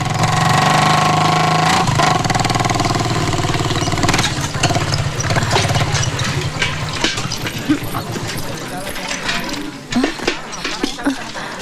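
A motorcycle engine idles loudly and steadily in a street scene from a comedy film, then the sound turns rougher and uneven while voices and other noise rise over it.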